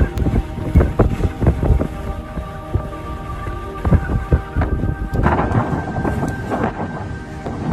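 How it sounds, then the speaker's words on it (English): Strong blizzard winds roar across Interstate 94 in Minnesota in whiteout conditions between Clay and Wilkin counties as vehicles drive through. Loud, gusty buffeting rumbles steadily throughout with no voices. "Footage released by the MSC shows vehicles driving through a thick expanse of whiteout conditions on Interstate 94 and strong winds"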